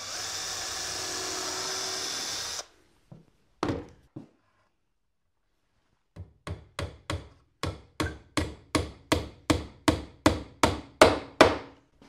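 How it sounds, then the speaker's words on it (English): A steady whir fades out, then a brief burst of a 1/16 inch drill bit pre-drilling plywood, followed by a rapid series of sharp rhythmic taps growing slightly louder, close by. "I'll pre-drill first with a 1/16 inch drill bit."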